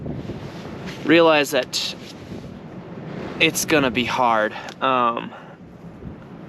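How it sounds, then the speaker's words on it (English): Low, rumbling wind buffeting the microphone throughout, beneath someone speaking in short phrases outdoors at an enduro race. "especially if it's windy like this"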